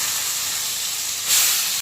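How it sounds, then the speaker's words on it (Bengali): Brinjal slices coated in salt and turmeric frying in a pan, a steady close hiss of hot oil that briefly swells louder before cutting off. "এর মধ্যে লবণ হলুদ মাখিয়ে রেখেছিলাম, সেই বেগুনগুলো এখন ভেজে নেবো।"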